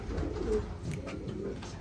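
Racing pigeons coo softly in a loft, low murmuring calls at moderate distance with faint background noise.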